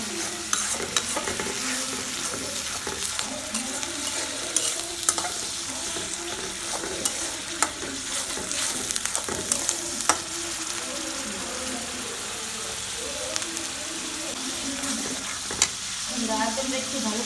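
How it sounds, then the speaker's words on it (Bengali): Ginger-garlic paste frying in a pan for a braised oxtail dish, a continuous soft sizzle broken by repeated scraping stirs of a spoon, close and moderately loud. "আদাটা একটু ভালো করে বেজে নিই।"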